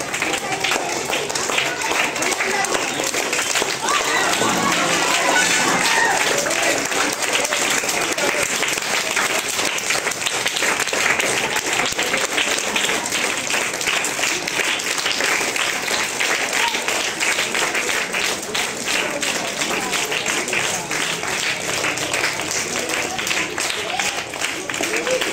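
Sustained, dense applause from a large audience fills the hall, welcoming a guest at a gathering in Korutla where karate children were given nutritious food; steady clapping throughout with faint voices underneath.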